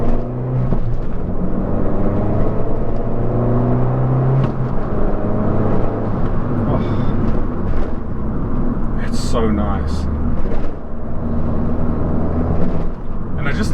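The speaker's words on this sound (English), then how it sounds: "It's got a ram air intake, and that really gives you some nice induction noises." A Fiat 500 Abarth Essesse with a ram air intake hums and revs under way, engine drone and intake induction rising and falling beneath someone talking.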